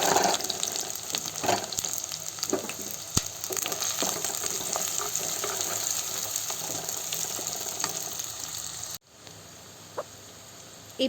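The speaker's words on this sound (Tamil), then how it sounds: "இப்போ நான் கட் பண்ணி வச்சுருக்க பெரிய வெங்காயம், சின்ன வெங்காயம், பூண்டு, மிளகாய் எல்லாத்தையுமே இதில் போட்டு நல்லா வதக்கிக்கிறேன்." Big onions, small onions, garlic and chilies sautéing in a pan in a village kitchen, a steady loud sizzle with occasional clinks that stops abruptly near the end, leaving a quieter hiss.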